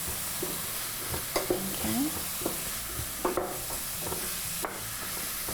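Beef and rice filling with smoked paprika sizzles quietly in a pan while a utensil stirs it, producing soft scraping knocks at irregular intervals over a steady frying hiss; a voice speaks briefly.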